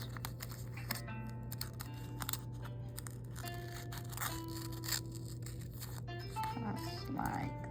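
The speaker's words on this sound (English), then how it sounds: "I'm going to use my scissors and I'm going to cut out" Scissors snip and slide through paper in a series of short, close crisp cuts, with rustling in between and a low steady hum behind.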